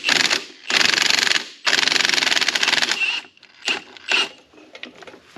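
A puller removes a heated pulley from a 1941 Caterpillar D4 engine, heard as close, harsh bursts of rapid ratcheting and grinding in several long runs, then shorter broken scrapes and clicks.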